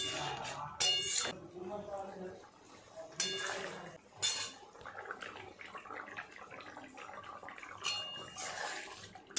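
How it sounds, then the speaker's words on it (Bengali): Spoon scraping and clinking against a pan while paneer gravy with tomato ketchup is stirred, a few distinct scrapes and taps among soft background noise. "একটু ভালো করে এইভাবে একটু নেড়ে চেড়ে দেবো।"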